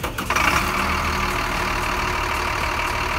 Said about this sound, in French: On vient de démarrer le moteur pour vérifier si jamais notre système de chauffage fuyait.